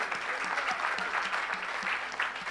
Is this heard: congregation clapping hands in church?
yes